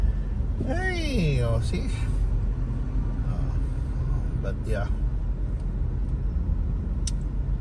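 Steady low rumble of congested road traffic in Cebu City along the SRP during Typhoon Opong, continuous throughout, with people talking over it and a few brief higher engine or horn-like sounds.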